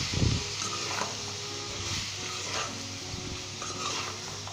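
Tenderized beef being stirred into pulao in a pot, a continuous hiss of cooking under scraping and stirring, with a louder thump at the start and faint utensil clinks.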